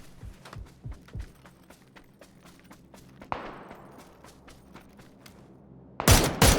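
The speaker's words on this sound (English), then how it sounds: "Watch as they continue to shoot at them, despite the enemy moving down the hill behind them" Rapid gunfire from a player in the PUBG battle royale game, a string of sharp shots early on followed by sparser cracks, then a loud close burst near the end.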